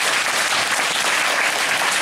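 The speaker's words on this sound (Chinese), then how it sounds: "我们热烈掌声哈、哦。" A seated audience at a talk event applauds in a dense, steady burst of clapping that holds at the same loudness for about two seconds, with no voices over it.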